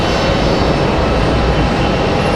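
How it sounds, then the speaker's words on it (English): A Copa Airlines airliner taxiing at Raleigh-Durham International Airport, a loud, steady broadband engine roar with a constant whine on top, close and continuous with no talk. "Copa Airlines on the move"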